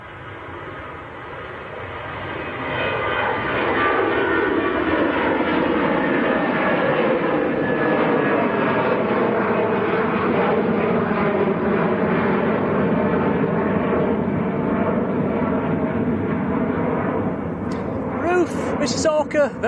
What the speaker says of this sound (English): Jet2's A321, just about to get airborne.